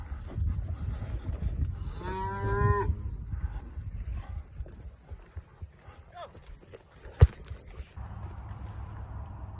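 Cattle moo loudly from a trailer during a cattle roundup, one drawn-out call standing out clearly over a low rumble of road and engine noise, with fainter lowing and a sharp knock later on.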